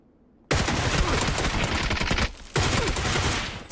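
Loud, close automatic gunfire from PUBG Mobile, a dense spray of rapid shots that breaks off briefly, then resumes in a second burst.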